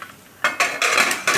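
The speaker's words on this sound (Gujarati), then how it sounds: "તો આને આપણે કુકરનું ઢાંકણું બંધ કરી દઈશું" A pressure cooker lid is closed over a pot of sama khichdi in a home kitchen, giving a quick run of four loud metallic clanks and scrapes in close succession.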